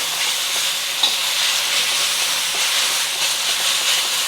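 Beef and onions frying in a pan for fried rice, a steady loud sizzle and hiss with faint stirring scrapes, heard up close and alone with no talking.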